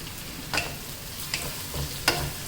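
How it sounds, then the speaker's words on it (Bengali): Onions frying in oil with black cardamom and cloves in a home kitchen, a low steady sizzle under a few brief stirring scrapes spaced about every second, close and fairly quiet. "এবার এটাকে একদম লাল লাল করে ভেজে নেব।"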